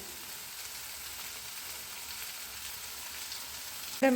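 Sardines frying in a pan with curry leaves give a steady, soft sizzle throughout, moderately close, with a brief louder clatter right at the end; no talking.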